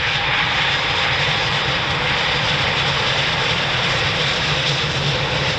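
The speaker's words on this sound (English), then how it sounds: "the Typhoons that are inbound right now will turn right as they're part of the fighter squadrons on the other side" Eurofighter Typhoon jets flying inbound over RAF Coningsby: a loud, steady, broadband jet roar holds without a break throughout, with no voices over it.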